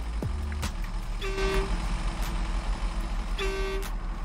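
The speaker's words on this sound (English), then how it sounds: "The honk's a bit underwhelming." A truck horn in SnowRunner, driving at the Metal Mines, gives two separate short honks about two seconds apart. Each is a flat, steady tone sitting over a constant low engine rumble.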